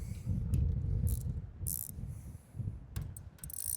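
A fishing spinning reel's drag is loosened for a small-nymph bobber rig, giving a run of soft mechanical ratcheting clicks at close range with brief sharper ticks, and no talking.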